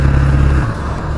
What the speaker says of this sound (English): You barely hit the pedal and you can hear the whistle.